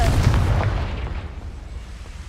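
In the video game Hogwarts Legacy, the Confringo spell lands as a loud, booming explosion at the start, then fades into a rumbling decay over about two seconds.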